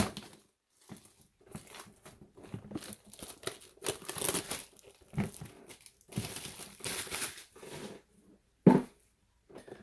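Packaging on a Magic: The Gathering Battlebond booster box being handled and opened, with close, repeated crinkling and tearing of plastic and cardboard in bursts separated by short pauses, no voices.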